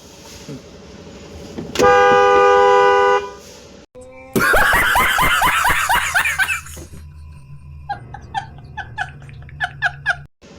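A four-wheeler car horn blares in one long, steady blast, then a noisy burst of overlapping sounds, followed by a series of short, repeated horn beeps.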